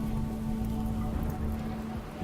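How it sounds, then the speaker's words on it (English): Rain in the colony-building game Rimworld falls as a steady patter of drops on surfaces, an even soft hiss with no voices over it. "Hey, rain, look at that."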